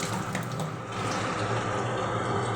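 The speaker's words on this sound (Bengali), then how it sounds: "বোতল ভরছি, ভরে নিয়ে গাছে জল দিতে হবে।" A bottle being filled with water from a tap, a continuous close rush and gurgle of running water with no talk.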